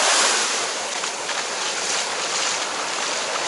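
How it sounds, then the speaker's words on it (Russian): Surf rolling in at Calangute beach in Goa, a steady broadband wash of breaking waves and wind, continuous and fairly loud with no talking. "Это пляж Калангут."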